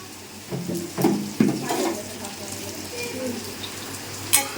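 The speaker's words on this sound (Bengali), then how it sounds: "এখানে পটল ভাজা হচ্ছে গাজর আর আলু দিয়ে ভাজা" Pointed gourd, carrot and potato frying in a pan, a soft, continuous sizzle with a few scraping stirs, under intermittent conversation.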